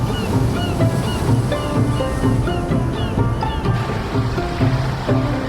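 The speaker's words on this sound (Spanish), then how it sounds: "Las olas rompen en las rocas cercanas a la orilla." Ocean waves break against rocks near a shoreline. The surf makes a loud, continuous roar with a broad wash of spray and a low rumble, steady throughout and with no voices.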